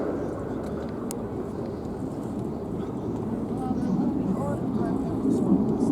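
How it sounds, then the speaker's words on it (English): A Lockheed F-35B Lightning II fighter jet flies a tight minimum radius turn near show center at an airshow, a broad continuous jet roar that swells steadily louder toward the end. "we'll see now some of that agility as the aircraft comes back for a minimum radius turn near show center"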